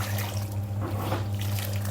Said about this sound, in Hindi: पोछे के लिए पानी भरेंगे और पोछा उठाएंगे।